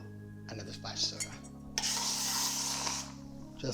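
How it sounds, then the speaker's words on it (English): Soda water splashes into a glass for a Campari aperitivo cocktail, a bright fizzing hiss from about the middle of the clip, loud and close, with a voice talking and a steady low background hum. "And then you guessed it, another splash soda."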